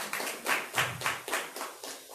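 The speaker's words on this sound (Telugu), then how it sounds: "చప్పట్లు కొట్టండి" Congregation at a Sunday church service clapping together in a steady rhythmic beat, about eight distinct claps over two seconds, fairly quiet and heard alone without talk.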